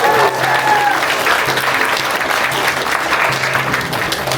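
Audience applause fills a reunion event hall, steady and sustained throughout with crowd noise, some faint voices and whistles mixed in near the start.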